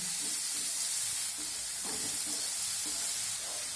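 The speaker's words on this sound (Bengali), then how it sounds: "পেঁয়াজটাকে নাড়াচাড়া করে আমি লাল করে ভেজে নেব" Chopped onion sizzling in hot oil in a pan while being stirred, a continuous bright hiss with soft scraping strokes of the spoon every second or so, close and steady.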